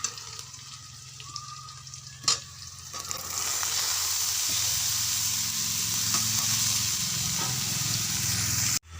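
Cut bottle gourd pieces dropped onto onion and green chilli already frying in oil, a bright steady sizzle swelling after a brief clatter and holding loud and close to the end, with no voices.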